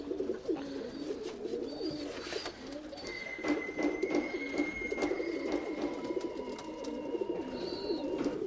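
Tumbler pigeons in a loft, soft repeated throaty cooing going on throughout, with faint chirps and a few high tones in the background.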